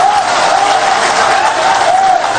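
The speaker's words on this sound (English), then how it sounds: "help me welcome the national chairman of the National Democratic Congress, Honorable Johnson Asiedu Nketia, with a huge round of applause" A crowd at a political rally for the National Democratic Congress in Tamale roars and applauds, a loud, dense, unbroken wash of clapping and cheering.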